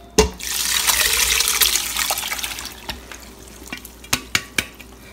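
Homemade apple cider vinegar, made without a starter, poured through a sieve: a steady splashing rush of liquid up close, fading into drips, followed by a few sharp clinks and knocks.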